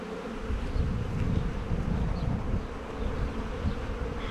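Buckfast honey bees hum at an open hive in a soft, continuous, low drone with slight swells, close by and faint.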